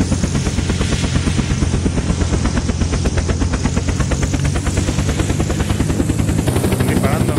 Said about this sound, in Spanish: es el helicóptero que está cerca mío